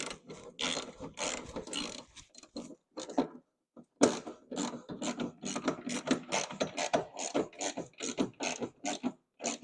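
Hand ratchet tightening the rear axle nut on a Yamaha R3 motorcycle, with rapid clicking strokes in close bursts, a short pause, then more steady ratcheting, close and fairly quiet.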